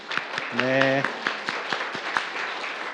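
Church congregation clapping to welcome visitors during a Sunday service, a brief patter of separate claps beneath a voice that holds a sustained tone near the start.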